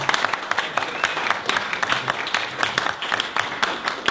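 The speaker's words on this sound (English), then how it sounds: "Let's give David a big round of applause." Audience applause after a talk on disruptive innovation and the news media revolution: steady, dense clapping from a room of listeners that holds for about four seconds at moderate loudness, with no one speaking.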